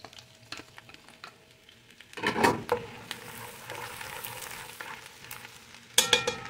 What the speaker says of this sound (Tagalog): Lagay na natin ang minced garlic.